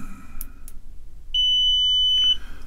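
A multimeter in diode check mode, used while testing diodes on an Atari 1050 board, gives one steady, clear beep lasting about a second. Faint clicks come before it and quiet room noise comes after.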